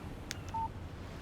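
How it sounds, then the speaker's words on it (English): A short electronic notification tone from a mobile phone in the video game Alan Wake Remastered: a couple of brief blips followed by a single steady beep, faint over a quiet hiss. "Text message from Barry."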